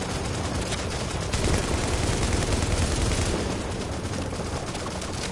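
Sustained gunfire in The Division video game, a dense, loud barrage of rapid overlapping shots that continues without pause for several seconds.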